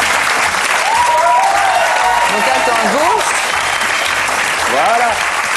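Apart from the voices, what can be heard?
audience applause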